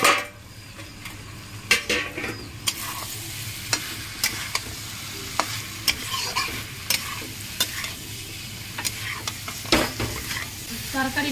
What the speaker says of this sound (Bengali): আর একবার একটু নেড়ে নেবো।